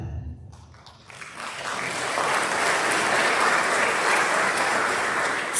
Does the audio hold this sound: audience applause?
yes